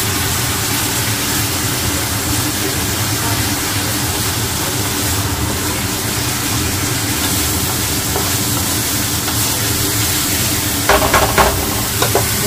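Cumin powder frying in hot oil in a pan gives a steady, loud sizzle that runs throughout, with a few brief clinks of a utensil near the end.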